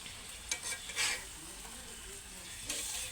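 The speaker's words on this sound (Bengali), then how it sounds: "কাঁচা মাছ কষিয়ে রান্না করার মজাই আলাদা বন্ধুরা।" Raw fish braises in a pan with a little water while being stirred, giving close, steady scraping strokes over a soft continuous sizzle, with no talking.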